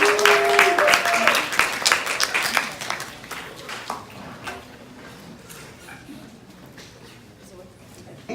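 A conference audience claps for the day's last guest speaker, loud dense applause at first that thins and fades toward quiet, with a brief voice early on.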